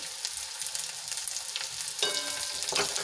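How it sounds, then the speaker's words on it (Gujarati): Onion, ginger and garlic sauté in a pan with a soft, steady sizzle. A utensil stirs them with a few brief scraping strokes, heard close up with no voices. "સરસ રીતે મિક્સ કરીને આપણે થોડાક સંતળાવા દઈશું"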